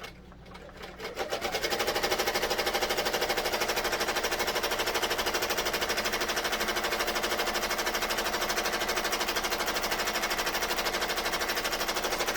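Computerized embroidery machine in the hoop, stitching placement lines onto a tearaway stabilizer for a zip bag: a fast, steady, loud mechanical needle rattle that starts up within the first two seconds and runs continuously, with no talk.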